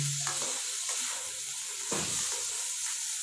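Noodles sizzling in a hot pan with black pepper and garam masala, stirred now and then, a constant close frying hiss with occasional scraping knocks.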